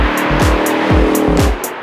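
A Ford Mustang V8 engine roars loudly and close, with repeated revving bursts and tire noise across the short stretch and no talk over it.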